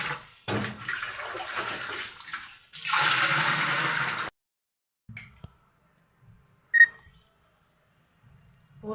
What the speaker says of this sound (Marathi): पूर्ण माठ भरून घेणार आहे आता मी.